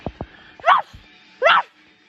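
A person imitates a dog's bark with two loud, gruff woofs about a second apart, preceded by a few soft clicks.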